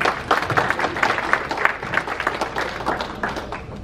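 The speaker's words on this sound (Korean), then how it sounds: "박수로 보시기 바랍니다" A crowd claps steadily for a speaker at a golf tournament gathering of a peace advisory council: dense, fairly loud applause lasting the whole stretch with no talk over it.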